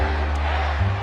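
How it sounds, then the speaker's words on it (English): Wrestling arena crowd at a WWE Raw match, a dense roar of cheering and shouting held steady throughout, swelling slightly near the end. "Man, what a crowd."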